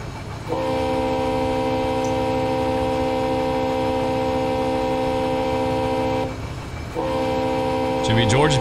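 A long freight train rumbles along in Run 8 Train Simulator on the Fitzgerald Sub, its horn sounding in a loud sustained blast, cutting off briefly, then sounding again over steady engine and rail noise.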